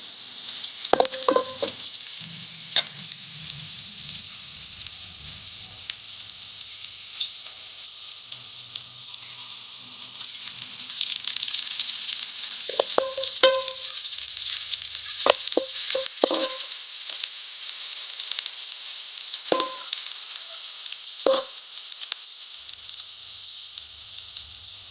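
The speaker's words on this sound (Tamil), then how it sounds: "வெங்காயம் நல்லா வதங்கட்டும்." Onions and green chillies sautéing in a pan for a dried-fish thokku, a steady soft sizzle with occasional scraping stirs and clinks throughout.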